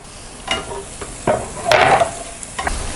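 Chopped capsicum stir-fried in a pan with garlic and ginger for egg fried rice, loud close scraping and tossing strokes over a light sizzle, several spoon hits, no voices.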